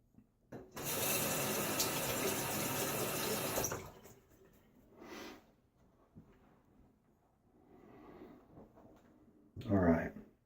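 Tap water gushes steadily into a sink to soak a shaving brush, loud and close for about three seconds, then shuts off, leaving quiet handling noises and a brief splash near the end.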